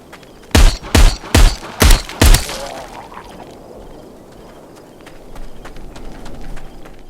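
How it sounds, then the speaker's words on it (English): Five loud, evenly spaced gunshots ring out in quick succession in the VR game Arizona Sunshine, followed by a quieter stretch of low ambient rumble and faint clicks. "I was a little worried the guns would sound a bit weak, but it works"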